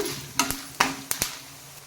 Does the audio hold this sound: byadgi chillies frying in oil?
yes